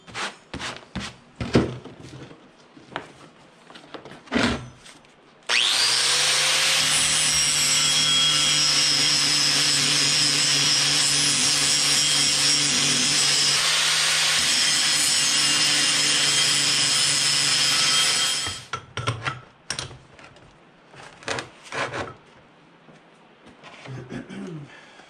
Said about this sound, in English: we'll fire up my old arc welder here